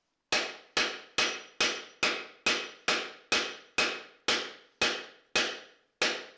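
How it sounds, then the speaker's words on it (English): A hammer strikes a drifter punch to drive a wooden pin out of a mortise and tenon joint in a barn beam. Twelve sharp, evenly spaced blows ring close and loud, each decaying before the next, with no voices. "this is a drifter punch, and again, flat side down, drive our pin back out"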